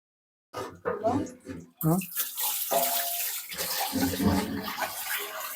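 Steady running water rinses food clean for cooking, a broad rushing flow that starts after a few seconds of speech and continues beneath the talking to the end.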